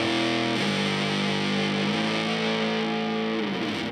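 A distorted electric guitar through a reissue Rat distortion pedal plays sustained, gritty chords that shift pitch a few times, thick and loud throughout with no talking.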